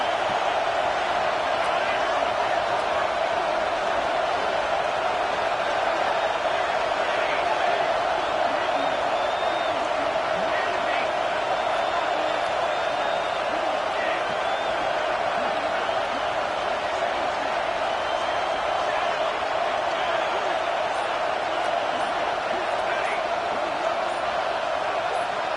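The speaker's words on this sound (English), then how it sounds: "It's early, but this crowd is fired up. Listen to this noise here." Stadium crowd roar from the College Football 26 video game, a steady, dense wall of cheering and whooping that holds at constant loudness throughout, with a commentator's voice faintly over it.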